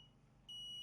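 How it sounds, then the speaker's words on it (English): A GPS alarm clock buzzer built around a Ublox NEO-6M receiver and microcontroller starts halfway through, a sudden steady high-pitched electronic tone over faint background hiss. "the buzzer will immediately start sounding until the GPS signal is received"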